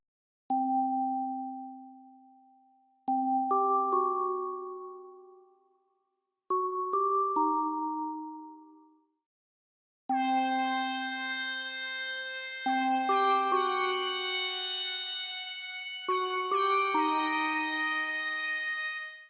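A synthesized bell shaped with a studio equalizer in a track rings out in clear single tones with long decays, then rises into sustained layered chords that hold together near the end.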